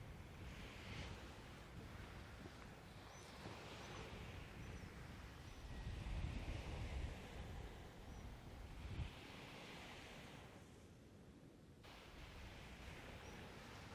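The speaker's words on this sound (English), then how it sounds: "The wind's quieting down for a little bit, and now I can hear waves." Waves wash continuously in Tauranga Harbour under steady gusting wind buffeting the microphone, a broad rushing noise with swells of surf and no voices.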